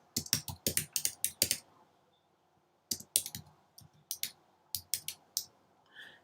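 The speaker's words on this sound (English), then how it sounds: "I can begin typing" Quick bursts of clicky computer keyboard typing, close and crisp, stopping for a pause and then resuming in shorter runs of keystrokes.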